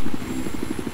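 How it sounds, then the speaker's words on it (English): A helicopter in the video game Battlefield 4 thumps past with rapid, evenly spaced rotor beats, close and prominent, while a faint high whine runs underneath. "Oh, this chopper."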